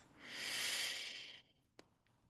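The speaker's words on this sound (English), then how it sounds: "allow your exhales to have an audible sound as we come back into our space, breathing in through the nose, out through the mouth" A single long breath pushed out through the mouth, a soft airy hiss that swells and fades over about a second, then a faint short click in quiet surroundings.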